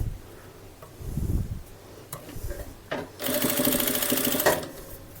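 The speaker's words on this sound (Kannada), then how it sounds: "ಹೀಗೆ ಇಟ್ಟು ಇದನ್ನೀಗ ಸ್ಟಿಚ್ ಮಾಡ್ತಾ ಬರುವ." A sewing machine stitching lace onto a child's frock, starting after a few handling noises and then running in a fast, steady whirring burst close by before it stops, with no talking over the stitching.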